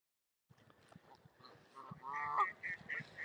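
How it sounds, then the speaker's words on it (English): Geese honking in a park, a chorus of repeated nasal calls that starts after a brief silence and grows louder and denser, overlapping one another at moderate distance. "It's all the noise of these birds."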